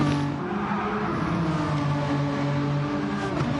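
A race car's engine drones with a steady, whining tone while its tyres scrub and squeal as it slides through a racing game event, loud and continuous for the whole stretch.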